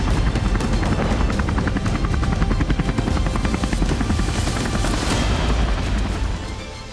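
A Polish Army Mi-24 military helicopter flies close and loud, its rotor chopping in a steady rapid rhythm with a heavy turbine roar, then the sound eases slightly at the very end.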